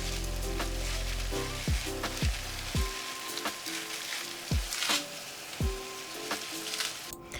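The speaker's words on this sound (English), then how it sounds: "Now we can add our spinach leaves." Fresh spinach leaves sizzle in a hot pan for a vegan spinach gravy, a steady soft crackle with a few sharper clatters and thumps from stirring.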